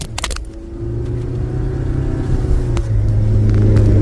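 A rescued old K car drives over a bumpy road, its engine rumbling steadily and growing louder as it accelerates, with clattering knocks from the rough surface near the start, and no voices.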